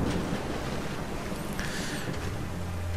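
Swamp water ambience from the video game Metroid Prime 2: Echoes: a steady, dense wash of watery noise with a low hum, and faint high chirps in the middle.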